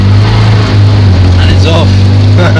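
An MG MGB GT drones loudly and steadily as it accelerates along the road, a close, constant engine hum with a faint rising whine near the end.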